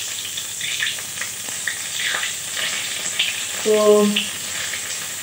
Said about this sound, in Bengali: আর একটু পাঁচফোড়ন দিয়ে দিচ্ছি।